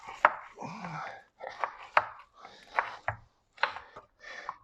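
A knife cuts through bread on a board in a series of close, firm chopping strokes with short pauses between them, and a voice talks briefly alongside the cutting.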